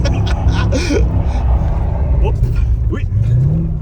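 A Mercedes-AMG car drives on an ice track, its low engine rumble steady and close throughout, with voices talking over it.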